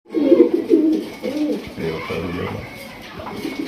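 A large yellow Bombay pigeon coos in a run of deep, throaty, rolling calls, loud and close at first, then softer and continuous amid background noise.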